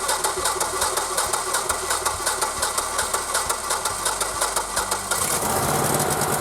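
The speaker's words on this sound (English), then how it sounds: "Pull the choke and crank the engine with the electric start and let it run for a few minutes." A Generac GP17500E portable generator engine is cranked on its electric start and then runs, a loud, steady mechanical drone with rapid pulsing that shifts slightly near the end, with no voices.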